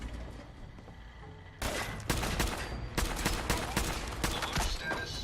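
Gunfire in the video game Fallout 4, a quiet stretch then sudden loud rapid bursts of shots in quick succession, dense and repeated until the end.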